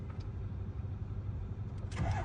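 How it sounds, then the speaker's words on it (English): Ford 6.0 Powerstroke diesel engine cranking slowly under a weak starter, a steady low droning turnover heard up close, with a brief brighter rise near the end. "cranking too slow"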